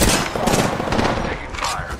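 Gunfire rattles without pause in the video game Apex Legends, loud and dense automatic shots layered over game sound effects.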